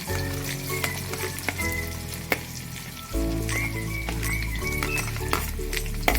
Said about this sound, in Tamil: இப்போ இந்த வெங்காயம் வந்து நல்லா பொன்னிறமாக வதங்கட்டும்.